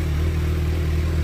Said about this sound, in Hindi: इसकी स्टॉक साउंड रेस देना भाई